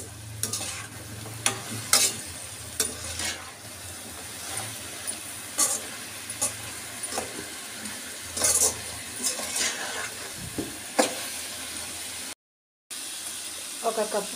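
Cut mushrooms and green peas fry in a pan with a steady sizzle, while a utensil stirs and scrapes through them in repeated clatters. A brief silent gap comes near the end.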